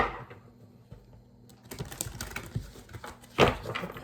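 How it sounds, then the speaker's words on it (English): An Archangel Michael Oracle card deck is shuffled by hand, starting quietly and then becoming a dense run of papery riffling and patter for several seconds, with a sharper burst of card flutter near the end. "Let me do 4 shuffles for the Emperor."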